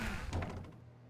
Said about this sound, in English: He entered the door on his left.